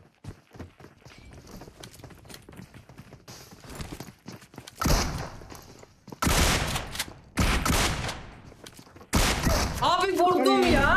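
Rapid gunfire from the mobile battle royale game PUBG Mobile comes in loud, dense bursts, mixed with footstep-like clatter and overlapping excited voices talking through the action.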